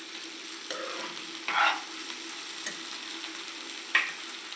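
Country chicken eggs fry in a pan with ginger paste, giving a steady low sizzle, with a few brief stirring scrapes and one sharper clink near the end, no voices.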